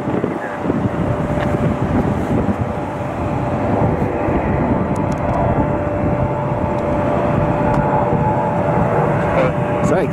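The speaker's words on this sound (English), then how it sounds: "Should be the United Star Wars plane." United Airlines jet in Star Wars livery passing overhead near Cleveland, a steady broad roar with a faint tonal whine, fairly loud and constant, under a person talking.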